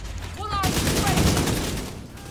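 Light machine gun fire in The Division 2, a sustained rapid burst of loud, close shots starting abruptly and running nearly two seconds before cutting off.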